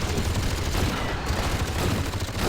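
In the strategy game Rise of the Reds, an anti-missile defense unit fires a dense, continuous rattling burst to cut down incoming missiles. The rapid gunfire is loud and unbroken throughout.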